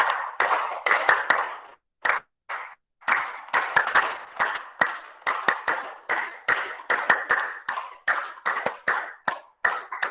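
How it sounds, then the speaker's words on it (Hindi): A group claps hands in rhythm during a yoga session, sharp close claps in repeated sets of quick strikes with short pauses between, steady and loud. "3 ताली का अभ्यास करेंगे"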